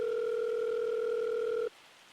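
A steady two-tone telephone ringback sounds from a phone in a farming video game, one long loud continuous tone that cuts off abruptly, followed by quiet hiss.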